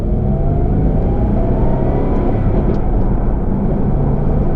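A manual Aston Martin Vantage AMR pulls away in first gear, a loud, steady engine roar and drivetrain rumble heard from inside the cabin, building gently without a break.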